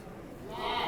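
A single sheep or goat bleat rises and swells over less than a second, set against a low, noisy room background.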